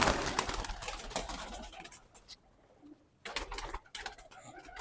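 Pigeons cooing in a loft, repeated soft coos close by over a background of rustling and bird noise, with a brief quieter gap midway.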